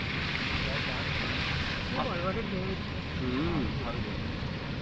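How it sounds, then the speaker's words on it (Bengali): Sea waves churn the water on a rainy day, a dense continuous roar of surf and wind filling the whole stretch, with faint voices briefly underneath. "এইখানে যদি এরকম ঢেউ হয় এতখানি উঠে আসছে"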